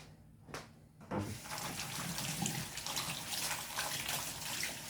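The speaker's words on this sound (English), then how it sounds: "Let me go wash my hands again." Hands washed under a running tap in a home kitchen while handling poultry or pork, a couple of brief splashes then a steady, close gush of water filling the sink, no talking.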